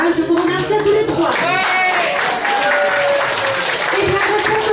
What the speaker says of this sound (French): Et un autre applaudissement pour nos mannequins.